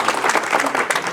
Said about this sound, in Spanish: Dar un aplauso fuerte al Rey de